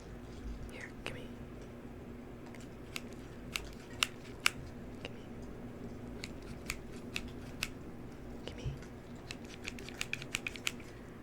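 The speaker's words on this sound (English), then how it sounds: "I think I need to trim your hair a little." Scissors snipping and trimming hair close up during a soft-spoken skincare session, a series of faint, crisp clicks scattered irregularly over a quiet background, bunching together near the end.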